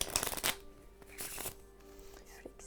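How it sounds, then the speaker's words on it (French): A red deck of playing cards being shuffled by hand, a brief riffle and rustle up close, fairly quiet, with faint room noise after. "Je vais venir mélanger ce jeu de cartes"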